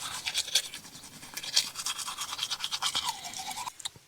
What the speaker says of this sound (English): I'm gonna brush my teeth